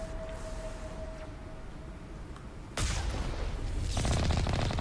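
Gunfire from the video game Mass Effect Legendary Edition bursts in suddenly after a quiet stretch with a faint steady tone, then a second, denser volley of rapid shots follows close and loud.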